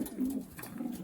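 A racing pigeon coos softly close by, a low rolling coo running through a quiet moment with no talking.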